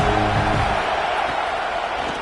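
Football stadium crowd cheering on a big third down in a college game, a broad roaring wash of voices that stays dense and steady throughout.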